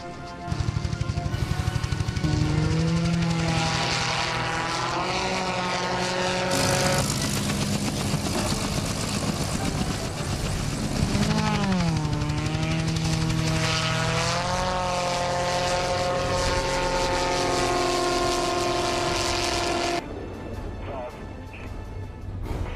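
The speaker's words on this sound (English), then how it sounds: "and that's a Subaru engine" A Subaru-engined gyrocopter runs continuously with its rotor spinning, a loud droning engine and propeller roar with shifting pitch that rises and falls, close by and dominant throughout.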